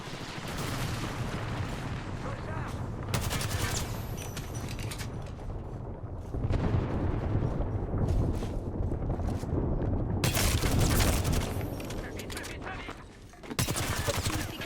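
Gunfire and explosions rattle through an Apex Legends match in bursts and volleys, loud and busy, with stretches of heavier firing and brief lulls between them.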